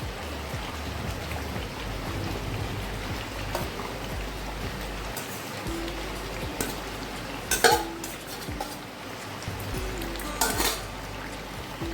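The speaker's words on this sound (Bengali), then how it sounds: "মাংসটা হয়ে এসেছে, এবার দিয়ে দেবো ভেজে রাখা পেঁয়াজ।" Fried onions stirred into chicken cooking for biryani, a steady close sizzle with scraping stirs and a couple of sharper clinks of utensil against the pot, with no voices.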